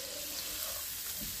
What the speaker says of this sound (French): Et on vient mélanger le tout.